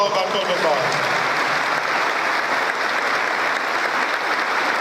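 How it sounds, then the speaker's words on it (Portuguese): A church congregation at a priest's ordination Mass claps warmly, a dense, even roar of applause that fills the space at a constant level throughout. "A todos, uma calorosa salva de palmas a todos nós."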